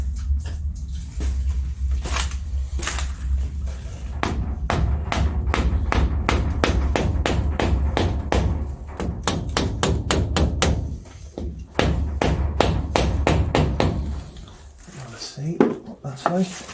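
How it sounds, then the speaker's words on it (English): A hammer strikes a cable joint in a long series of sharp metallic taps, some close together and some spaced apart, with brief quieter gaps and soft speech between the blows. "we'll give it a little tap with a hammer"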